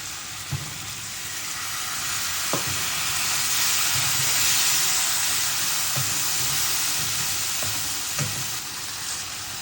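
Garlic, cumin and poppy seed sizzle steadily in hot oil in a home kitchen, a continuous broad frying hiss with a few faint clicks of stirring, close and alone.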